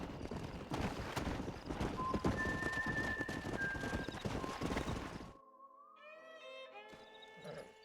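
Horses in the Red Dead Redemption video game: steady clip-clop of hooves with neighing and whinnying, then the galloping cuts off and a short musical sting follows.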